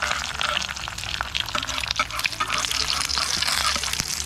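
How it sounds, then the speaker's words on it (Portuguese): An egg fries in a pan, giving a steady close hiss and crackle of sizzling oil throughout, with faint clicks and scrapes and no talk over it. "Fala pra tua avó fazer pra você um ovinho frito"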